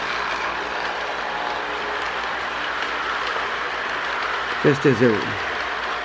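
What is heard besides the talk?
Marx E7 toy train running past on track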